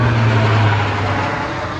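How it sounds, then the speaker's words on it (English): An airplane passes overhead near an outdoor Sea-Doo jet ski maintenance spot, making a loud, steady broadband roar with a low hum that fades slightly toward the end. No one speaks. "sorry for the plane and going overhead"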